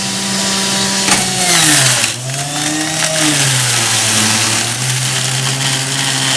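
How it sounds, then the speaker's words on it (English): An Omega Big Mouth juicer running at high speed gives a loud, close motor whine whose pitch dips and then recovers as produce is fed in and juiced, continuous with no speech. "go over to the Omega Big Mouth juicer, turn this baby on, and start juicing with the Omega Big Mouth"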